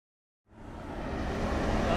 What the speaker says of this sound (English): That noise you can hear in the background is the combine.